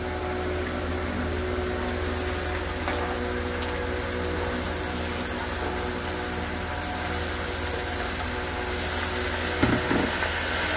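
Cut vegetables sizzle and crackle steadily in a hot pan for veg pulao, a constant close frying hiss with occasional scraping from stirring and a brief clatter near the end.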